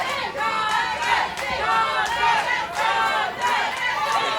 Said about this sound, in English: I'm hearing more than just a small smattering of chants for Dontay